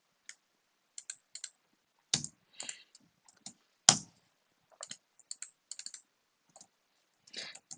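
Keys on a computer keyboard are tapped in irregular quick clusters and single strokes, a few louder presses standing out, close and clear in a quiet room.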